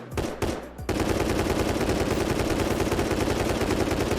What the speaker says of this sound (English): SMG sounds more threatening than Tommy.